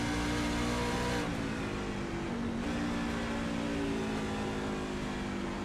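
Loud, continuous engine drone of an iRacing race truck at New Hampshire Motor Speedway, with rising and falling pitch as it shifts through gears, no voices.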